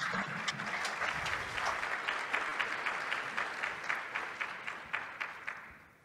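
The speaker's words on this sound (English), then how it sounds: "that applause was for you" An audience at a community health event applauds its speakers with dense, sustained clapping at a fairly strong, even level, tapering slightly toward the end.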